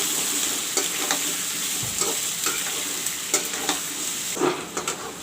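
Onions frying in a pan for chicken curry sizzle steadily, with occasional scrapes and clinks of a stirring spoon over a few seconds and no talk.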